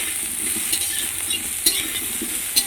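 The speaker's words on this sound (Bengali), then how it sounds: "দিদি ফুলকপিটা ভাজছে" Cauliflower fries in a pan with a soft, constant sizzle, broken by a few sharp scrapes and clicks of stirring.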